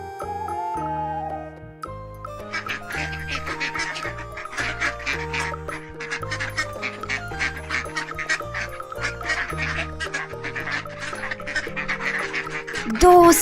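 Ducks quack in a dense, busy chorus of overlapping calls, loud and close over a steady low background tone, with a brief louder burst at the very end.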